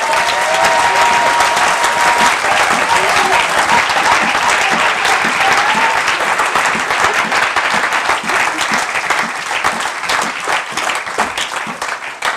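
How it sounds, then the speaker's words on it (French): Congregation in a church applauding loudly and steadily to acclaim the Lord, a dense sustained wash of clapping from many hands that continues for over ten seconds with no speech over it. "On peut acclamer le Seigneur."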